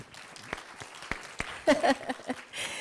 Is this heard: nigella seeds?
no